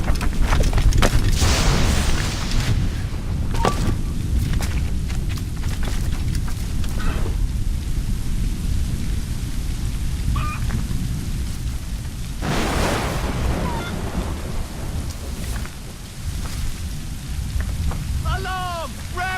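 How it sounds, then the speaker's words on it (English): Heavy rain pours steadily through a storm in Assassin's Creed Rogue, with loud rolling thunder booms rising over the downpour and a few faint game sounds. "The storm's getting worse."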